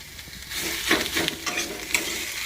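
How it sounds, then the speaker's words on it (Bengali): Onion frying lightly in a pan with very little oil for a mashed bhorta, a steady soft sizzle broken by a few scraping stirs, close and alone without talk. "প্রথমে আমি পেঁয়াজটা হালকা করে ভেজে নিই"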